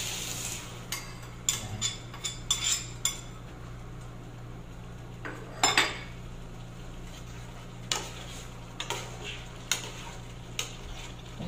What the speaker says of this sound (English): ilagay na natin yung natimplahang ginger, black pepper, salt, soy, at konting vinegar sa ating talong